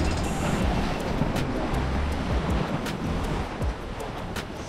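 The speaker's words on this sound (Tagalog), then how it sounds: "Mataas yung alon." High ocean waves breaking at a shore, a continuous roaring surf with gusts of wind buffeting the microphone, loud and close, with no talking.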